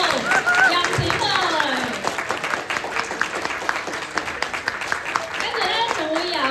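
Audience at a church Christmas party applauding the costume team, a dense burst of clapping that stays loud and steady, with chatter and a voice speaking over it at the start.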